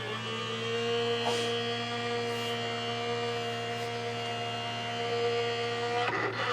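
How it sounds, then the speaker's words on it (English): An embossing machine runs steadily with a card sandwiched between embossing plates, giving a continuous mechanical hum with bright tonal whine, a couple of faint knocks near the start and a clunk near the end, no talking. "And then run it through your embossing machine."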